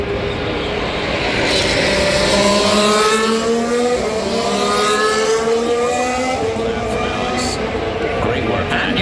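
Formula 1 cars in Las Vegas Grand Prix qualifying, a loud engine whine rising and falling as a car passes, with commentary talk running over it throughout.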